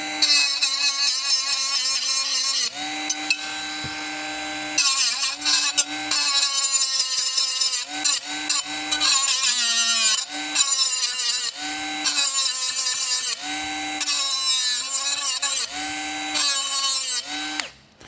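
A Bosch GWS 12V-76 brushless cordless 76mm angle grinder grinds close up in loud whining bursts, its pitch rising and falling with load and broken by several short pauses, with no talking.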